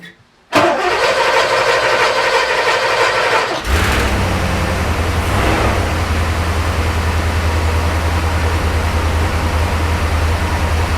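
A Porsche 928 engine cranks loudly for about three seconds, then catches and settles into a steady, deep idle that rumbles on close by.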